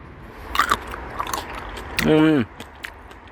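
Someone bites into firm, crunchy Landis grapes up close, giving a couple of sharp, crisp crunches, followed by a short voiced remark.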